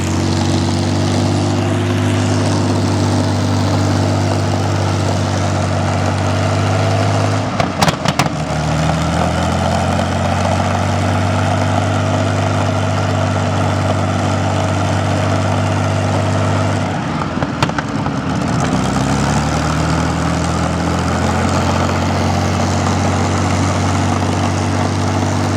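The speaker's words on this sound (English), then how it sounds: "they've currently got this Rolls-Royce jet engine started up, which is absolutely madness." A Rolls-Royce jet engine at BHP Fuel Fest runs loud and steady with a droning, whining roar, swelling and shifting twice as the pitch sweeps downward.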